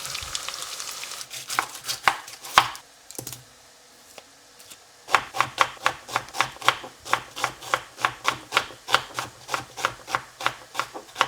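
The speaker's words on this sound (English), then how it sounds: "And I'm going to start chopping the onions now." Steady, rapid knife chops through onions on a cutting board, sharp evenly spaced knocks, with a brief pause midway and a quiet sizzle underneath.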